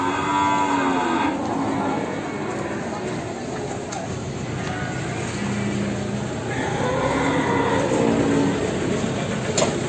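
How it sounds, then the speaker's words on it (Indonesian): Ongole crossbred cattle at a livestock market in Kebumen, with repeated low moos amid a busy crowd. Voices talk throughout the clip. "Sama ada satu lagi sapi peranakan Ongol"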